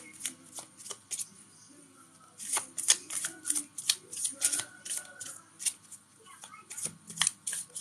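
Tarot cards shuffled by hand during a live reading: quick repeated riffling bursts, crisp and close, in irregular runs with short pauses between them, with no voice over the shuffling.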